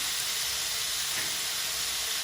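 Shrimp sautéing briefly in a hot pan: a steady, loud, close sizzling hiss that runs unbroken throughout and cuts off suddenly at the end, with no talk.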